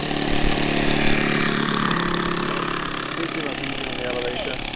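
Engine of a quarter-scale Klemm L20 model airplane in flight near low throttle, a steady mid-pitched buzzing drone heard continuously beneath someone talking.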